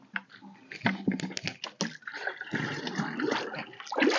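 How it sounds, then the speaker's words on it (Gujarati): Water pours and splashes into a pesticide sprayer pump tank as it is filled, an uneven gurgling trickle with sharp knocks and clatters of handling, close by and without speech. "તો હાલો ભરું પંપ."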